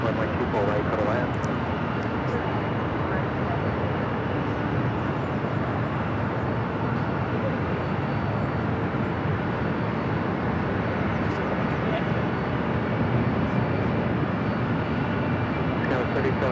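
A Delta Boeing 757 jet landing at Los Angeles airport, a broad, unbroken roar of engine and air noise holding at a steady level throughout.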